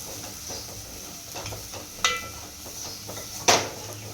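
Spices including Agri masala, turmeric and chilli are stirred in a frying pan, giving a soft continuous scraping with faint sizzle and two sharper clinks of the spoon against the pan.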